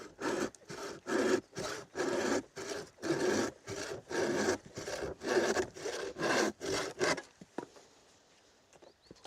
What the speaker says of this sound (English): it is the amateur way of hand sawing, surely